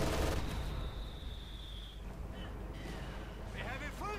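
A Maxim machine gun fires during a Company of Heroes 2 battle, a dense, sustained rattle blended with other combat noise and short chirping effects, holding steady throughout.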